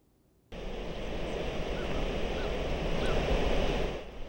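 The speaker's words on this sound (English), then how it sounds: "The ferocity of water pouring over the dam at Lake Eufaula is breathtaking." Floodwater pours over the dam spillway at Lake Eufaula, a loud, steady, broadband roar that starts abruptly and rushes on without letup for several seconds before dropping away.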